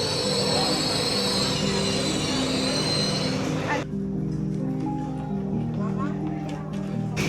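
Train at a railway platform, a loud rumbling wagon roll with metallic wheel screech that stops abruptly partway, followed by quieter platform ambience with faint voices.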